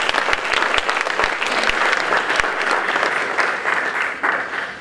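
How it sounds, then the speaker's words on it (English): Audience applause at a county judge's campaign gathering, a steady dense wash of many hands clapping that fills the whole stretch at even loudness, with a few sharper individual claps standing out near the front. "Give yourselves a round of applause"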